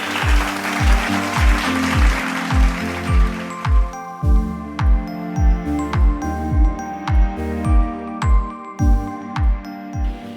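Rhythmic hand clapping from a church congregation, steady regular beats over sustained music, loud and close throughout.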